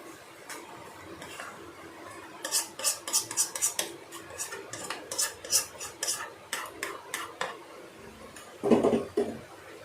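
Lightly fried chicken being tipped into cooked dal and stirred, heard as a run of quick metal spoon clinks and scrapes against the pot, closing with a louder clatter.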